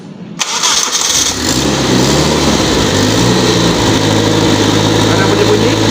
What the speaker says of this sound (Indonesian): Ya, kita dengar, hidupkan mesin.